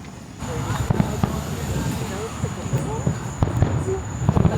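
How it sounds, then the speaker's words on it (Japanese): Distant fireworks at a Florida resort area, heard as scattered faint pops and bursts over a steady ambient wash while people talk quietly nearby. "花火とか久しぶりに見ました ね。"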